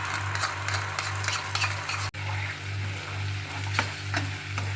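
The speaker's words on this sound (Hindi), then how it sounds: "अभी यहाँ पर जो सॉस रखी थी इसे डाल देना है।" Garlic frying in oil in a pan as sauce is added for chicken satay, a steady close sizzle with repeated stirring scrapes and one sharp break partway through.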